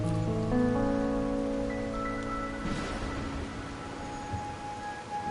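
Steady rain falls on a rainy night in the video game Wuthering Waves, a continuous even hiss of drops, with soft sustained musical tones ringing over it.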